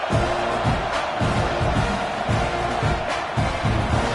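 Football stadium crowd at a Texas A&M versus Syracuse game just after a touchdown, before the kickoff: a dense, steady roar of thousands of fans that continues without a break, with a few louder swells.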